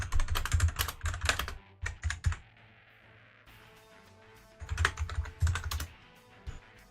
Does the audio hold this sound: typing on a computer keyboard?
yes